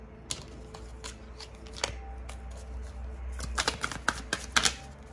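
Tarot cards are shuffled close by: a series of sharp riffling snaps and soft slides, sparse at first and then quicker and louder near the end, with no voice over them.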